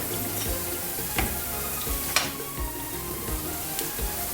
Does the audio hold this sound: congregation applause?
no